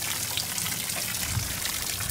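Water running aboard a boat, a steady continuous rushing trickle with broadband hiss, even in level and close, with no talk.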